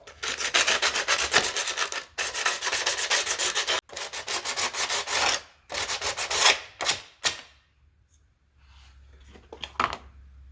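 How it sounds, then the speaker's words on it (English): Coarse 60 grit emery cloth rubbed by hand over a degreased fan shroud of a 555D, in steady rapid scraping strokes with short pauses, then a few slower, fading passes before it stops. "they say to sand it lightly with a coarse sandpaper. So a 60 grit emery cloth."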